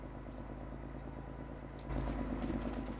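Tractor reversing in Farming Simulator 22, a steady low engine drone with a faint rhythmic chug that grows slightly louder partway through, heard alone at moderate distance.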